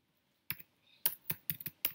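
Key presses on a Mac keyboard while Python code is typed, about six or seven crisp, close clicks in an irregular rhythm after a brief silence, with no talking.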